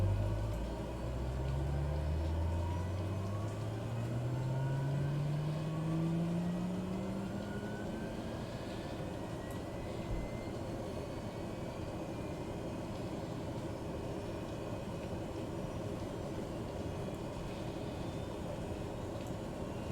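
Cessna 208B Grand Caravan turboprop engine at low idle in MSFS 2020, a steady droning whine with rising tonal sweeps early on as it spools, then settling into a constant hum and faint high whistle.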